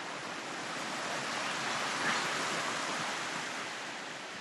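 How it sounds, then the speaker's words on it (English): A river near the Ubud cottages in Indonesia gives a steady, broad rushing of flowing water that stays loud and continuous throughout, with no talk. "We got this river over here"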